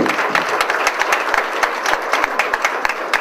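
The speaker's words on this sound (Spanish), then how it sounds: "Les damos un aplauso a todos ustedes." Audience applause at a Spanish-language Immunotec health business meeting, a dense steady patter of many hands clapping throughout with scattered sharper claps standing out, no talking over it.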